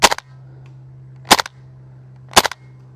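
A KWA F90 airsoft rifle fires three sharp snapping shots at roughly one-second intervals out in the woods, each crack followed by a brief rattle, with a low steady hum between shots.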